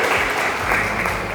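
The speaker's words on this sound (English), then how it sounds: "please, a round of applause for sharing his idea" A master-class audience claps in a short, steady round of applause, dense and even across the brief moment.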